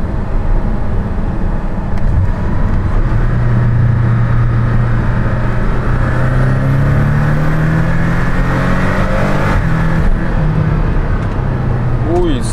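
Porsche Cayman GTS engine pulling hard under acceleration from inside the cabin, a steady loud drone rising in pitch as revs climb and easing back near the end, with road noise throughout.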